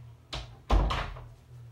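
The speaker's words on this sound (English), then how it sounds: "I'm going to shut my door because it's bothering me." An indoor door is swung and shut, a soft movement followed by a firm thud and a brief rattle, close by with no talk.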